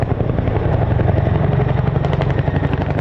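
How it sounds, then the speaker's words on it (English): A Boeing CH-47 Chinook tandem-rotor helicopter flies a display at the FIA 2024 airshow, its loud, rapid rhythmic blade slap thudding steadily over a deep rotor roar, close and powerful throughout. "get ready to hear the Chinook's iconic blade slap"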